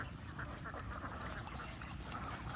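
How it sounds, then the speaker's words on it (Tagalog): Domestic ducks being herded around a pond give steady, overlapping quacks at a moderate distance, a continuous flock chatter with no clear pauses. "ikakon po natin yung ating mga itik"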